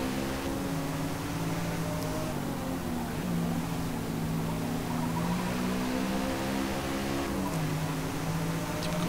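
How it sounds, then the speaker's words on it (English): A TVR car engine in the Forza Motorsport racing game, a steady droning growl holding a sustained pitch with slight rises and dips as it revs, loud and continuous throughout. "TVR making a lot of noise"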